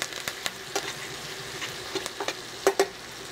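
Meat searing in a hot pan in a home kitchen, a steady sizzle crackling throughout with sharp spitting pops scattered across it, close and moderately loud with no talking.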